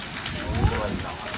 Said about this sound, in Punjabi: ਇੰਨਾ ਮੀਂਹ ਡਿੱਗਿਆ ਇੰਨਾ ਮੀਂਹ ਡਿੱਗਿਆ